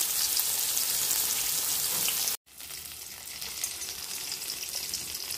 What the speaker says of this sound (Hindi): अब देखिए थोड़ी सी फ्राई हो रही है